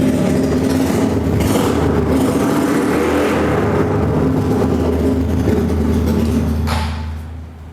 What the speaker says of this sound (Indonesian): Nah, suara knalpotnya ini kita bikin free flow nih.